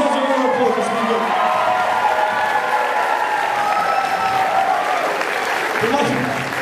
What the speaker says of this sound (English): well done, give yourselves a round of applause, it's been good.